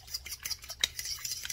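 Fork whisking batter in a bowl for fried oyster mushrooms, with quick metallic scraping and clinking strokes in an uneven rhythm, close and fairly quiet.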